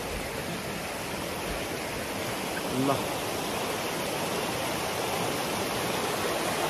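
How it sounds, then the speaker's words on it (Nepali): A swollen mountain stream coming down from Dharan roars steadily and loudly, a broad unbroken rush of water with a brief voice heard over it partway through. "यो चाहिँ आरा धरानबाट आएको खोला हो"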